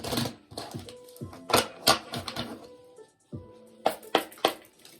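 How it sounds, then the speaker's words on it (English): A double-sided tarot deck being shuffled by hand gives a run of crisp, irregular card riffles and slaps, close and fairly loud, in bursts separated by short pauses. "You've got to shuffle them a bit differently because they've got pictures on both sides"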